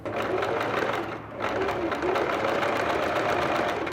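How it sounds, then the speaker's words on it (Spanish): A Singer sewing machine runs steadily at close range, its fast mechanical chatter stitching a wide, short zigzag along a fabric edge for a vest, pausing briefly once before carrying on loud and continuous. "voy a poner la puntada en zigzag en el más ancho que tenga y sí un largo chiquito de 2 para ir cosiendo y a la vez remallando el borde"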